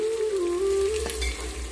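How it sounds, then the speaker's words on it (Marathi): Sliced onion fries in oil for masale bhat, a soft sizzle running under a wavering, whistle-like tone, with a faint tap near the middle. "उभा चिरलेला कांदा घालून छान कांदा फ्राय करून घ्यायचा"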